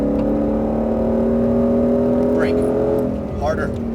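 A Mustang Shelby GT500 engine drones steadily and loudly on a race track, the constant hum rising slightly under throttle while an instructor talks over it.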